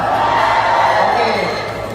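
A loud crowd shouts together in a sustained, blended roar of many voices, trailing off slightly at the end.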